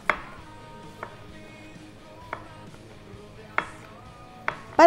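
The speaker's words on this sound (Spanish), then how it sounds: "lo que hago, simplemente hacer unas rodajitas delgadas" A knife cuts chorizo into thin rounds for a pasta sauce, giving about six separate sharp taps on the board, spaced roughly a second apart, with a louder scrape at the end and no talking.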